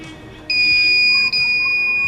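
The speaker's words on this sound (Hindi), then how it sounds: "कंटिन्यूटी का बीप भी सुनाई पड़ रहा है" Homemade solar-powered continuity tester emitting a loud, steady, high-pitched electronic beep that starts abruptly, breaks for a moment and resumes, with no voices over it.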